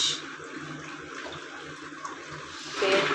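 Water from a fish tank pours out in a steady, close rushing stream that stays continuous and fairly loud, with a brief splashy surge near the end.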